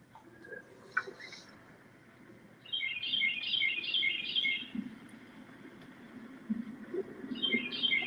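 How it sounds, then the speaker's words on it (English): Bird calls sound outdoors, bright repeated chirping phrases in short bursts, with a quiet call at first and then louder runs that recur, all over a faint background hush. "Hear a bird, find a bird."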